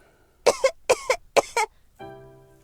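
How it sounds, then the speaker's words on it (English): Three close, sharp coughs in quick succession, each a paired burst, followed by a short tonal sound trailing off. "Turn and cough, please."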